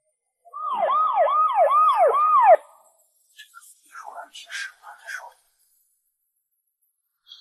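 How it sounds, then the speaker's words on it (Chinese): An ambulance siren wails in about four quick rising-falling sweeps for two seconds, then cuts off, followed by a few soft, brief breathy sounds. "救护车到了。"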